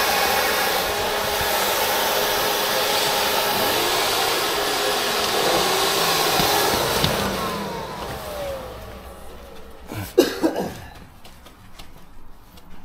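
A vacuum cleaner runs steadily with a loud whining drone for several seconds, then fades and drops away, followed by a few clunks and knocks from handling near a patio being cleaned.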